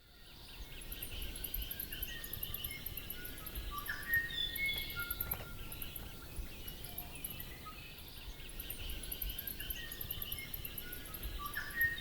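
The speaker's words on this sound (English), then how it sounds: "if you listen carefully, you will notice that high-pitched squeak" Faint, very high-pitched bird squeaks repeat in short bursts over a steady outdoor hum of insects and distant calls.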